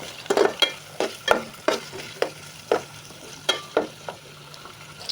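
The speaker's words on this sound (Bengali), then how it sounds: "দিয়ে দিব পেঁয়াজ, কাঁচামরিচ দিয়ে দিলাম, টমেটো দিয়ে দিলাম, এগুলো একটু নেড়ে চেড়ে নেব।" Chopped onion, green chili and tomato frying in a pan over a soft sizzle, with a spatula stirring in a regular rhythm of about a dozen distinct scrapes and knocks, close up and with no talking.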